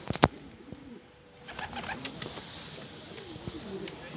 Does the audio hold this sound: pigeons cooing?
yes